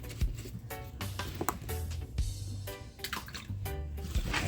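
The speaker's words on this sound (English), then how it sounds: "so I'm gonna add my potato to my pot of water" Potatoes go into a pot of cold water during potato salad preparation, making a series of splashes, plops and sloshing water sounds close by, with no talk.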